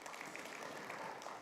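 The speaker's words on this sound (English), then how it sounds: "We want to ask you to give him a round of applause also." A brief burst of steady conference audience applause, many hands clapping together at a distance.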